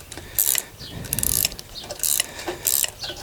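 A pass-through ratchet wrench with an 8 mm socket works on a 2017 Ram 1500 4x4 during a drop kit install, giving several quick bursts of close, crisp ratcheting clicks with short pauses between.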